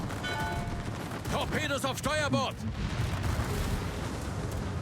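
Massot torpedoes striking a ship in the naval battle game World of Warships, heard as a rumbling cluster of booms and crackling impacts with a voice talking over them partway through.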